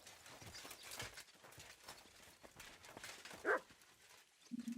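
Horse hooves clip-clop at a steady walking rhythm in the medieval video game Kingdom Come: Deliverance 2, moderately close, with a brief sharper knock and a low rumble near the end.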